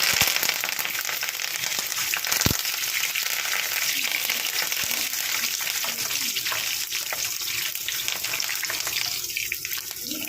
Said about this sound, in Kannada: ಈರುಳ್ಳಿ, ಸ್ವಲ್ಪ ಬ್ರೌನ್ ಆಗೋವರೆಗೂ ಹುರ್ಕೊಳ್ಳೋಣ